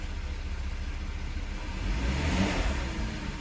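A freshly rebuilt VW CC car engine runs on its first start, idling smoothly and then swelling briefly in a gentle rev before settling, heard fairly close with no one talking.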